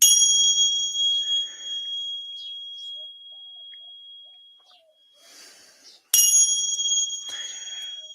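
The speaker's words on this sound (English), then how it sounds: "So, I cleanse my cards and my space with sound, ting-shot bells." Tingsha bells struck for space cleansing ring out in a bright, sustained metallic tone that slowly decays, fades near silence, then a second sharp strike rings loud and clear again.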